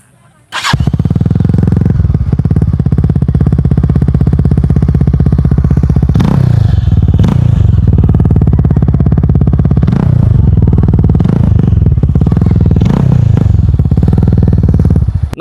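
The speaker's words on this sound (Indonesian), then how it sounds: "Kebetulan gue lagi pakai knalpot aftermarket GP7 karena mungkin bisa menambah power, dan nanti gue kasih tahu suara seperti apa." A Morbidelli T250X 250 cc rally-style motorcycle fitted with a GP7 aftermarket exhaust runs loud and close, a continuous throaty idle punctuated by several sharp throttle blips.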